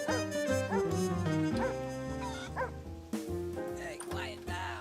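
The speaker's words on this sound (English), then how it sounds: "the dog barked at the cat" A dog barks and yips several times in quick bursts, with a brief whimper, fairly close.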